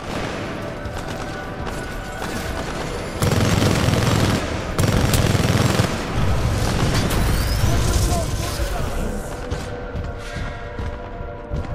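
Gunfire in the Titanfall 2 final boss fight: sustained rapid bursts of automatic fire with heavy booms and blasts, loud and continuous across the whole stretch, with game voices mixed in.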